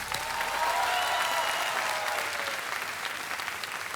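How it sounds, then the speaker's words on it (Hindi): A TV game show studio audience breaks into sustained applause, a dense even roar of clapping that holds steady for several seconds with no voices on top. "तालियां बज जाए"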